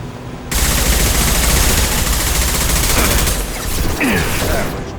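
Sustained automatic gunfire from the video game Mass Effect Legendary Edition, a dense loud burst of rapid shots that starts abruptly and runs nearly to the end, with a faint voice underneath.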